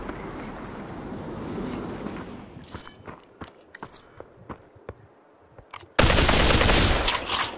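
Gunfire in the VR shooter Population: One: rapid bursts and scattered single shots crackle at varying distances, with footstep-like taps, then a loud sustained burst of close firing at the end.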